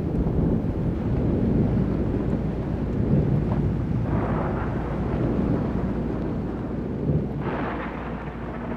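A thunderstorm with lightning in a dry part of Mexico, a long low rumble of thunder rolling under heavy wind buffeting the microphone, with a couple of sharper crackles standing out.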